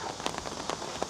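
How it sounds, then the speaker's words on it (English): Rain falling hard outdoors in Japan, a dense steady patter of drops with scattered sharper taps on a surface, moderately quiet and without talk. "Oh man, it's raining hard."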